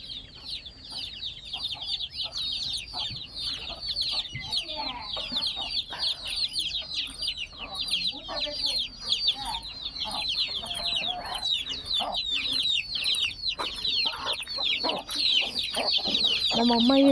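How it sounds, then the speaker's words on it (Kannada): Farm chickens at a village home cluck and chatter continuously at close range, a busy layered stream of calls that grows slightly louder toward the end, with occasional faint voices. "ಕೋಳಿಗಳು ನೋಡಿ"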